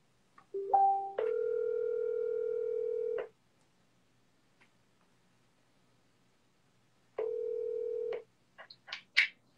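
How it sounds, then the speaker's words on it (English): Telephone dial tone and keypad dialing: a steady tone starts after a couple of quick beeps, holds about two seconds, stops, then a second tone sounds before a short run of rising touch-tone key beeps near the end, with no talking. "I want to make a quick phone call."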